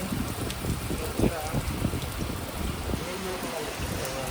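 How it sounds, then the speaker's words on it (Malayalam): Heavy rain pours steadily and densely on a shed sheltering a vehicle, a constant close wash of patter with no break. "ഭയങ്കര മഴ."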